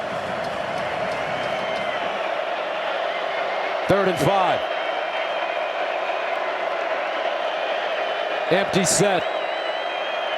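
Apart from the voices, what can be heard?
stadium crowd noise at a college football game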